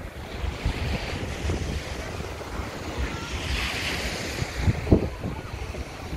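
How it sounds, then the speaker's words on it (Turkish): Ocean surf on an overcast day, rough waves washing in with heavy wind buffeting the microphone, a constant rushing roar at moderate level. "İşte okyanusumuz."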